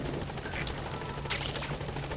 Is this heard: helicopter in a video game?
yes